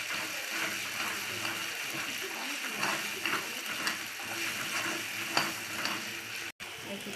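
Chicken kosha simmering with ground whole garam masala in a pan, sizzling and frying steadily while a spoon stirs and scrapes in irregular strokes, fairly close.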